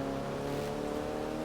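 Engine of a modified car in the racing video game The Crew 2, a steady, loud droning hum with layered harmonic tones, held at constant pitch without revving.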